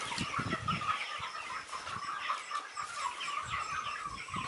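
Chickens cluck and chatter softly, fairly distant and faint, as the birds are let out to run around; a few low thumps mix in and no one speaks.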